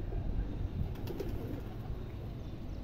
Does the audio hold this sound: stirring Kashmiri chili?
no